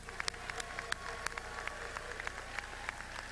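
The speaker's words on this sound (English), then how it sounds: "will the spouses and the children and the grandchildren of our candidates please stand and receive our applause?" Faint, distant clapping from a seated audience at a university commencement ceremony, a thin scatter of individual claps over a steady room hiss.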